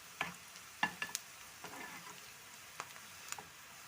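Quiet, steady frying hiss of spices tempering in oil, with a handful of sharp pops and crackles scattered throughout.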